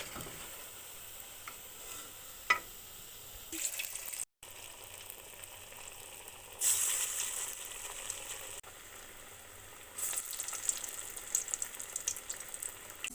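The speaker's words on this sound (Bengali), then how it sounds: "কাবাবগুলা সুন্দর ভাজা হয়ে গেছে" Carrot and cauliflower kebabs sizzle in hot frying oil, a steady soft crackle with a brief gap and louder bursts partway through, with no voices.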